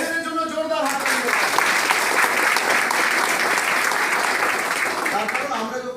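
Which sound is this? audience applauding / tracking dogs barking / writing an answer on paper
audience applauding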